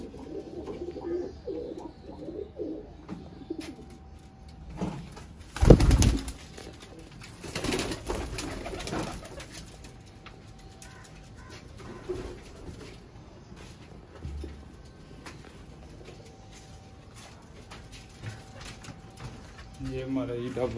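Baby pigeons cooing at a pigeon club, soft low coos near and repeated under a voice speaking, with occasional handling bumps.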